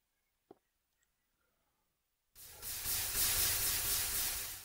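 Water hissing as it pours onto lava in Minecraft, a sudden loud, steady steam-like rush that starts after a couple of quiet seconds with a faint click before it.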